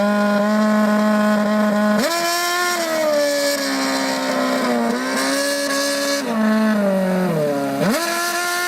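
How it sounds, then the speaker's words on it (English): A Red Bull Racing Formula One car stands in New York City while computer-controlled revs are stepped up and down to play the national anthem. The engine wails loud and close, with rising and falling pitch slides between sustained notes. "Red Bull Racing took one of its Formula One cars to New York City to sing the national anthem"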